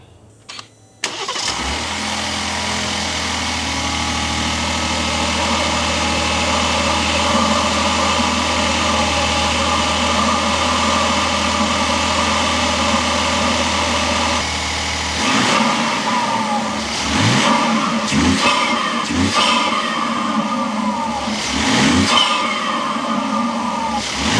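A Ram 1500 Hurricane pickup truck engine with a K&N cold air intake cranks and starts, idles with a steady rumble, then revs several times in sharp bursts up close.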